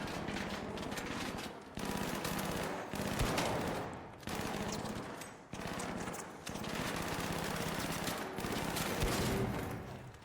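Sustained loud automatic gunfire raking a turret in a battle-royale video game on a dam map, nearly continuous bursts with short breaks and no talking.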